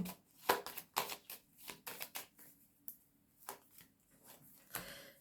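Playing cards handled during a card reading: a string of short, crisp snaps and slides as cards are shuffled, laid down and covered, close and fairly quiet, with no voice.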